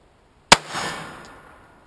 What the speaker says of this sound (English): Last shot of the velocitor.